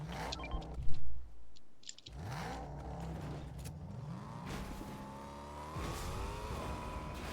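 A car in the Fortnite video game drives and accelerates: a steady engine drone whose pitch rises through the gears, close and continuous, with some brief game effects near the start.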